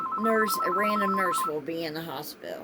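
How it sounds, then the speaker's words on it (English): A mobile phone ringtone rings with a repeating electronic tone, partly masked by a person talking throughout. "Sorry guys, that's my phone."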